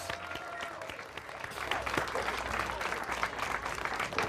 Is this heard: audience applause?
yes